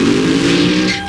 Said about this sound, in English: Hear how crisp that engine is.